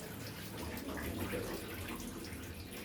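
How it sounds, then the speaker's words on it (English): Hot water from cooked French beans pours out through a strainer in a kitchen, a steady, quiet splashing trickle that continues without pause. "So this is what I'm going to use to strain the water from the French beans."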